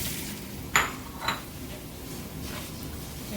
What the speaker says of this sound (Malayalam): നമുക്കിത് ഈ പൊടികളെല്ലാം ഇതിലേക്ക് ഇട്ട് കൊടുക്കാം.